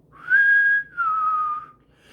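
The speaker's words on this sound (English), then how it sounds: "he began to whistle" A man whistles two clear sustained notes, the first held and steady, the second gliding gently downward, alone against a quiet background.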